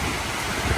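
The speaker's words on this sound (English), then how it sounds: "We're starting to get some of the tropical force winds now," Tropical-storm winds and rain from Hurricane Milton in North Port, Florida: a steady broadband rush of wind and rainfall, loud and continuous, with a brief low gust thump near the end.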